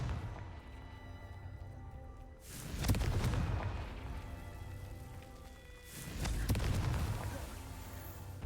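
A Confringo fire spell blast in the Hogwarts Legacy video game, two loud booming bursts a few seconds apart with crackling tails, over a quiet ambient game backdrop.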